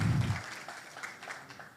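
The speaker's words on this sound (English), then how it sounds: "So another round of applause for these guys." At an AI tech event in Beirut, the audience gives brief, quiet applause that trails off after a soft thump at the start.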